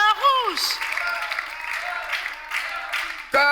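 A studio audience applauds in a steady patter of clapping, with a voice speaking over the start and the end.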